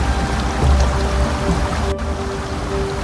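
A massive waterfall in an Icelandic valley, a river plunging over a drop, gives a steady, dense roar of rushing water, loud and continuous with no pauses.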